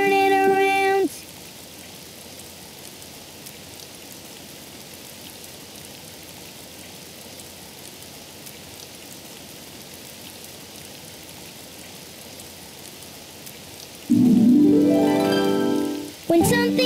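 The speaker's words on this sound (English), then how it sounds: "It's raining outside." Steady rain patters and hisses without a break, with short louder noises at the start and near the end.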